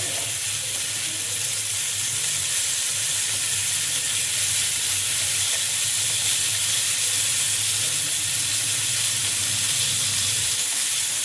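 Bangda (mackerel) fish fries in oil over a high flame, giving a steady, close sizzle and hiss that runs unbroken for the whole stretch.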